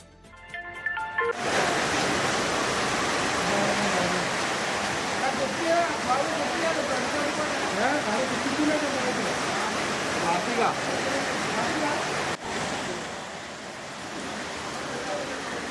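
The flooded Kalakkan river at Vazhikkadavu in Malappuram, overflowing into farmland after heavy rain, makes a loud, continuous rushing roar of water that carries on unbroken, with brief talk over it.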